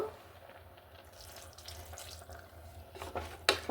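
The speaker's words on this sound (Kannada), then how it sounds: "ಹೀಗೆ ಸ್ವಲ್ಪ ನೀರು ಹಾಕೋಣ ಇದು ಬೇಯೋ ಅಷ್ಟು" Water poured into a cooking pan for a Karnataka avarekalu (hyacinth bean) curry served with akki rotti, a soft splashing run with brighter bursts near the end, faint kitchen background and no talking.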